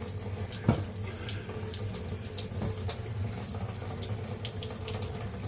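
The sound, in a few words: hands rinsed under running tap with washing up liquid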